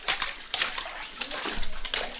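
Water runs and splashes at the front door of a house in a village during the Ganesh festival, a continuous close wash with uneven sloshing bursts.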